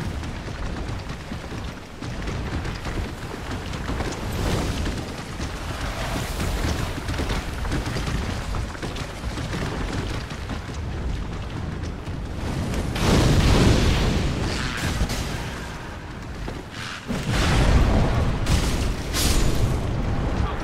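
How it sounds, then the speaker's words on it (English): Loud, dense rumbling explosions from Dark Souls in Smoldering Lake roll on continuously, swelling into heavier booming bursts toward the end, with no talking. "Explosion of death."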